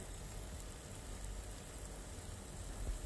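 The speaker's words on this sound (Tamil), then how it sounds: "இப்போது எண்ணெய் நல்லா சூடானதும் இதில் 100 கிராம் பன்னீர் சேர்த்துக்கிறேன்." Paneer pieces, about 100 grams, fry in hot oil in a pan for a spicy paneer kurma, giving a steady, soft, even sizzle and crackle throughout with no talking.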